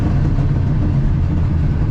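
1967 Ford F250 truck engine on the highway, a deep steady low rumble heard loud and close from inside the cab, alone without talk.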